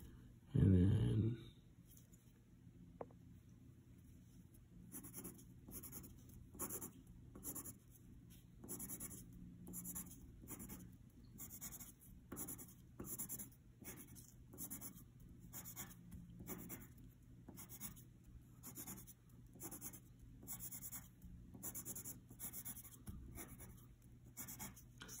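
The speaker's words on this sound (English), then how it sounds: "I'm just like speed drawing here" A pencil scratches quickly across paper while a multiview sketch is speed-drawn, giving a steady run of short, close strokes with faint talk underneath.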